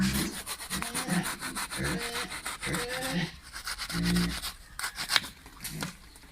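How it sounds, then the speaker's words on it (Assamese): Knife coated with oil cutting into a whole jackfruit, a steady rhythmic rubbing and sawing scrape, close and fairly loud, with a little faint talk in the background. "এতিয়া আহক কঁঠালটো কাটা আৰম্ভ কৰোঁ"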